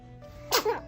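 A single quick, fairly soft sneeze, a short sharp burst followed by a brief voiced trailing sound, close by in a quiet room.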